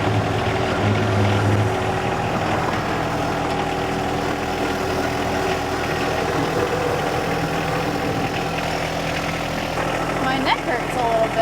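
A tractor engine runs steadily while a rear blade plows snow, a constant close mid-to-low drone with little variation throughout.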